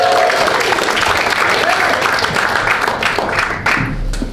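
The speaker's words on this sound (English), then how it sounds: "Everyone please give a warm round of applause for Miki Janosi." Loud, sustained applause from a large crowd, steady clapping filling the room with cheers mixed in.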